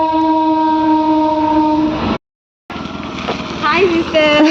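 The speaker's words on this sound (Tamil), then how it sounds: "இன்னொரு ட்ரெயின்." Freight train with a long, loud horn blast, followed by a brief silence and then rumbling train noise with more horn-like tones, heard close by while people talk.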